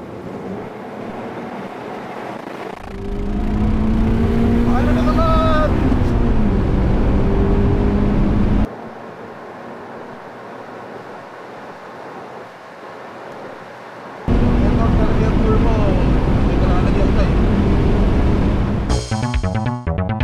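Drag race between a 1998 Honda Civic SiR and a 2020 Geely Coolray S, with two loud bursts of engine roar and wind rush, each several seconds long, and a quieter gap between them.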